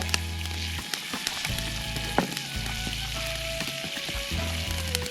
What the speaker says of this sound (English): we just dump our potatoes right in there. We dump our onions in there.